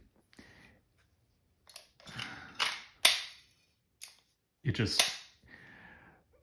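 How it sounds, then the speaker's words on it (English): Metallic clicks and clacks of a pistol magazine being pushed into a Taurus PT92 that will not lock, several sharp close snaps spread over a few seconds with quiet gaps between. "this magazine does not go in and lock solidly"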